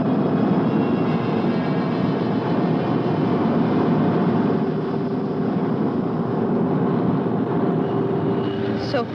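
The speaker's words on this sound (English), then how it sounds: "Stand by for vertical landing." A cartoon spacecraft makes its vertical landing as a steady, dense engine roar holds unbroken and loud throughout, with a faint rising whine at the very end.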